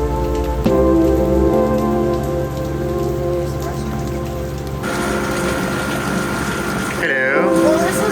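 Steady rain pours onto a covered hotel porch roof and surroundings, a loud continuous patter with dripping runoff, while a voice talks briefly underneath.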